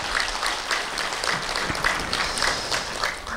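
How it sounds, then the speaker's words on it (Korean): Audience applause for a visiting monk from Borim Temple in Jangheung, at an academic Buddhist symposium: a steady, dense wash of many hands clapping together, fairly loud and sustained throughout with no talk over it. "박수 한번 크게 보내주십시오."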